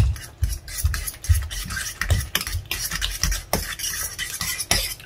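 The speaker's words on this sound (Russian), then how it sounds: "И также вилочкой очень быстро все хорошо перемешиваем" A fork stirs cheese quickly through a pot of oatmeal, giving a steady run of close, wet rasping and scraping strokes in an uneven rhythm, with no talk.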